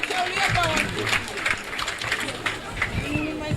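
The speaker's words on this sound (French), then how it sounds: "j'aimerais qu'on applaudisse vraiment M." Audience clapping at a World Theatre Day ceremony in Mboro, applauding association president Pape Faye: a steady patter of many hands at moderate distance, running throughout with voices and chatter mixed in.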